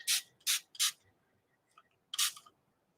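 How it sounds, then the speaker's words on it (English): Four short hissing bursts from a lightweight spray bottle misting art paper, three in quick succession then a pause before a fourth, close and fairly loud with no talk. "Let's spray that."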